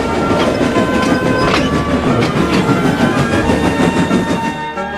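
A train pulling ballast wagons rumbles steadily and loudly, the wagons clattering in a constant rhythmic clack along the rails, close by throughout.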